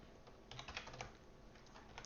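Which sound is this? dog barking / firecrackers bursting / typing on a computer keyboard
typing on a computer keyboard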